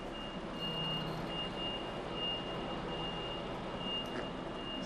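An HGV truck reversing into a tight spot, its reversing alarm beeping in steady repeated pulses over a constant low engine rumble and road noise.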